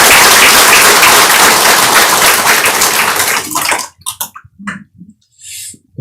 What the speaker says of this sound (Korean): 큰 박수로 부탁드립니다